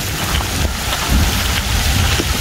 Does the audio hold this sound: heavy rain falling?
yes